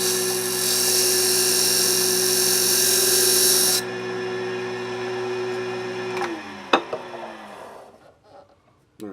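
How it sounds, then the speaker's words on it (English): A skew chisel scrapes a wooden baby rattle flat on a spinning lathe, giving a loud steady whine that drops partway through and then winds down with a few sharp knocks near the end. "I'm just going to take the skew and just kind of scrape that flat"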